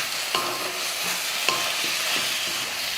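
Tomatoes and freshly picked home-grown mint sautéing in a pan, a steady close sizzle with several sharp scraping stirs spaced through it, no voices.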